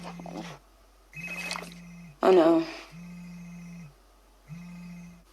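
A phone rings in repeated electronic tones after a smart speaker is asked to find it. Someone speaks briefly over one of the rings.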